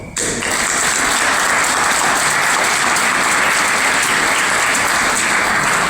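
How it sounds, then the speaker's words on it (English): Loud, sustained audience applause at a deputy foreign minister's address, a thick unbroken roar of many hands clapping that starts abruptly and holds at full strength to the end. "You deserve a great applause."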